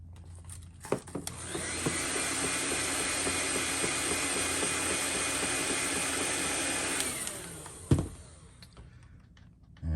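A heat gun heat-sets paint on a fishing lure, switching on with a click and blowing a steady, broad hiss for about six seconds before cutting off with a thump, close by with no talking.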